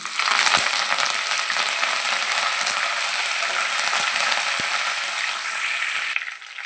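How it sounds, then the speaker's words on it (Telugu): Curry leaves frying in hot oil with dal: a loud, steady sizzle and crackle with a few sharp pops, close up, which eases slightly near the end. "పప్పులు ఫ్రై అయ్యాయండి. ఇప్పుడు కరివేపాకు వేసుకుందాము."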